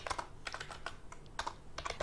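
Keys clatter on a computer keyboard while text is typed into an Excel spreadsheet, a quick uneven run of close, faint clicks with no talking.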